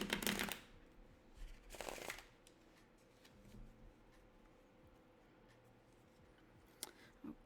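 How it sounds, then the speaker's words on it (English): A deck of tarot cards is riffled and shuffled in two quick, crisp bursts, followed by a long, quiet stretch with only faint handling noises. "let's shuffle this one more time"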